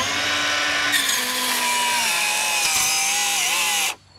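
A power saw cuts through wood to square off the end of a piece during flat-roof skylight removal, a loud, sustained whining buzz with rising pitch that stops abruptly after about four seconds.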